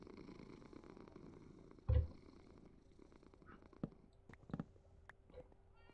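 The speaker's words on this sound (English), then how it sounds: "I could hear your cat purring." A cat purrs softly and steadily in the background, low and continuous, broken by a brief louder thump and a few faint clicks.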